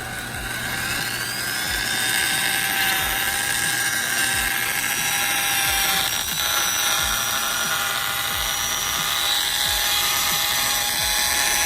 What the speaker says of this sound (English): if your drill comes with this little dial here, just put it to the slowest one